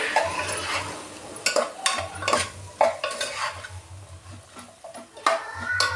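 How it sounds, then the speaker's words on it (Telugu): A spoon stirs okra pieces with salt and chili powder in a pan over low flame, scraping and clinking in uneven strokes over a soft sizzle, close and fairly loud. "ఇలా మంచిగా ఉప్పు కారం అన్నీ దీన్ని కలిసేలాగా మిక్స్ చేయాలి"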